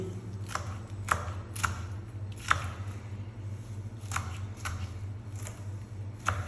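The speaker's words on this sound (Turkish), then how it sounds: "Şöyle ufak ufak biberimizi doğruyoruz." Green peppers chopped finely with a blunt knife for menemen: sparse, sharp knife taps on a cutting board, about ten uneven strikes at a slow, laboured pace over a steady low background hum.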